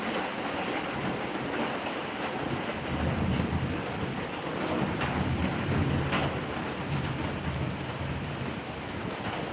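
Steady, dense roar of heavy rain falling, a continuous broadband wash with low rumble, no voices.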